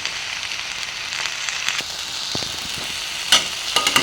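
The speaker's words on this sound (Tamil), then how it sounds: "இந்த கீரை வணங்கிட்டு இருக்கும் போதே கொஞ்சமாக இது கூட உப்பு போட்டு இதை நல்லா வணக்கிக்கலாம்" Vallarai greens wilting in a pan with a little salt, giving a soft continuous sizzle with occasional spatula taps and a few louder crackling stirs near the end.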